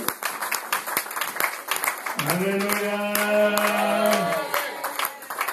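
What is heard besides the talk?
church congregation applauding for the pastor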